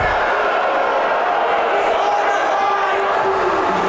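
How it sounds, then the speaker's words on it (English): A crowd at the Oregon vs Rogue Valley Royals game cheers for the home team in a loud, continuous roar of many voices. "Again, the crowd cheering for the home team."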